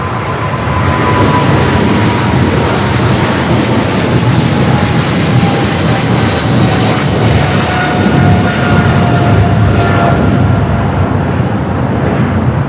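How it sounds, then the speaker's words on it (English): A China Airlines Cargo Boeing 777 freighter rolls down runway 25 left at LAX, its engines giving a loud, continuous roar with a rising whine through the takeoff run, steady throughout. "We also have the China Airlines Cargo 777 freighter now rolling down at 25 left."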